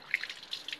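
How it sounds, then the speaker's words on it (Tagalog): Water being poured into vinegar in a kitchen, a few soft light drips and trickling splashes, faint and close, with no speech. "Nalagyan ko ng konting tubig kasi ang tapang ng akin."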